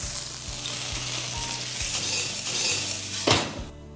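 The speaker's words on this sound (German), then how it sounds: "Sobald ich das Steak von beiden Seiten angebraten habe, gebe ich es mit der Pfanne in den Ofen." Steak sears in a hot, oven-safe frying pan with a loud, steady sizzle, punctuated by a few low knocks of the pan and a brief metallic scrape near the end.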